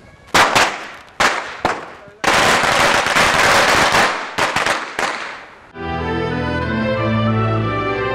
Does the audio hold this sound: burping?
no